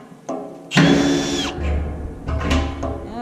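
A power drill with ordinary drill bits bores into the metal wall of a burn barrel, two loud whining bursts with grinding bit-on-steel chatter, separated by a short pause, up close.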